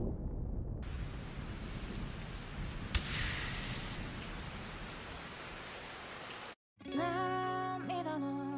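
Steady heavy rain with a rumble of thunder in an anime episode, a broad, continuous downpour that cuts off briefly before music enters.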